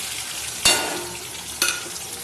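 Chopped tomato, onion and green chilli hit a hot pan for a cabbage Manchurian, giving a steady close sizzle with two sharp bursts of louder frying as pieces are added and stirred.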